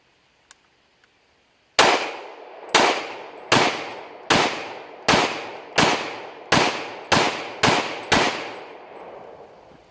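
A short-barreled Kriss Vector firing .45 ACP 230 grain full metal jacket target rounds, ten loud close shots in a rapid, slightly accelerating string, each with a ringing decay, after a couple of faint clicks.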